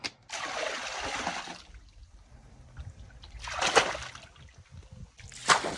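Water splashes and sloshes as it is poured into a pool, with a long noisy gush at the start followed by two shorter splashing bursts, close and fairly loud.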